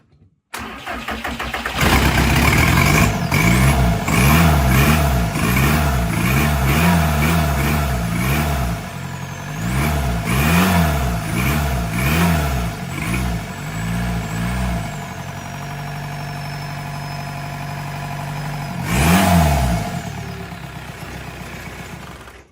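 A car engine, with possible ECU or vacuum trouble and the alternator belt off, cranks and catches, then gets blipped on the throttle over and over. It makes close, loud rising-and-falling surges before settling to a rough idle and one last rev.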